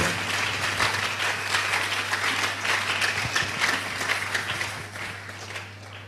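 A church congregation applauds in a steady, dense patter of clapping that holds evenly for several seconds before thinning slightly, with a low constant hum underneath.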